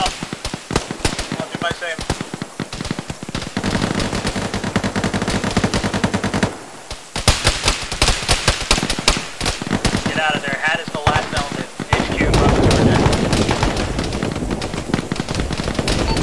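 Machine gun fire in a tactical shooter firefight, loud bursts and single shots rattling almost continuously, with a brief lull around the middle, while players call out orders over the gunfire.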